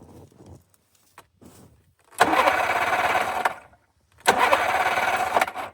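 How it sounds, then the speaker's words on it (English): A snowmobile's starter motor cranks on jumper cables in two sustained bursts of about a second and a half each. Each burst is loud and close and runs with no talk over it. A few short clicks and handling noises come before them. "we're gonna see if we have any life out of the starter"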